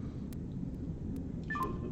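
A telephone dials out with a few brief, faint keypad tones near the end, set against a low, steady background hum.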